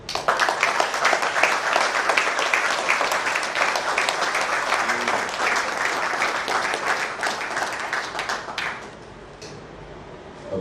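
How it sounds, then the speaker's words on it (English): Dense, sustained applause from an audience at a Delhi book launch for a retired Wing Commander's book, steady and full for about nine seconds before thinning out abruptly near the end. "may I request all of you to clap"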